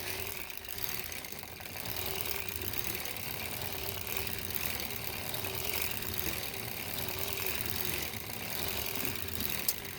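A circular sock knitting machine fitted with a ribber, cranked steadily by hand, gives off a continuous close mechanical whirring and clicking at an even pace with no one talking.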